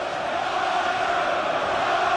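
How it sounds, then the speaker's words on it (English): A boxing arena crowd chants and sings in a dense, continuous roar with a steady sung tone running through it, loud and unbroken by individual voices. "Listen to this crowd, the chanting, the singing."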